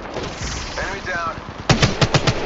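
Gunfire in Apex Legends Mobile starts with a muffled rhythmic stream, then a string of loud, close, evenly spaced shots rings out, with faint game voices underneath.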